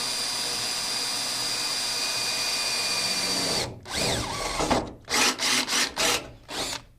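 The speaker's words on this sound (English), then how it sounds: "we'll just put the drill in that area and give it a little bit of pressure up and then just drill it away." A power drill bores a hole for a hood strut bracket on a third-generation Toyota Tacoma, a steady whine followed by several short, loud bursts as the bit cuts through, with no talking.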